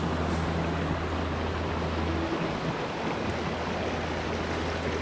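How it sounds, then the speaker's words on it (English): A tiny waterfall on a hiking trail near Mt Buangor in Victoria, Australia: steady, close, broadband rushing and splashing water with no pauses, and a faint low hum at the start. "Our own personal teeny tiny waterfall."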